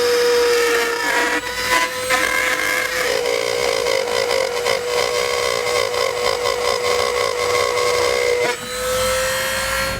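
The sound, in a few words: cutting out a section of the bumper fascia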